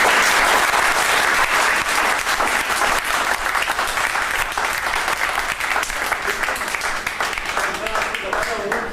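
Sustained audience applause at an awards event at Hotel Sapphire, dense clapping from a large crowd lasting throughout at steady loudness, with faint voices mixed in.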